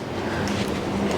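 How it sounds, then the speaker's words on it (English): A steady rumbling roar of a moving train, continuous and fairly loud with a low hum throughout. "That's the train."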